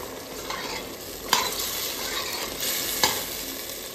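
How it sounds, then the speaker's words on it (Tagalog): Beef stir-frying in a pan with garlic and onion, a dense, even sizzle broken by two or three sharp spatula scrapes, close and steady with no one talking. "So, nilagyan na natin yung beef."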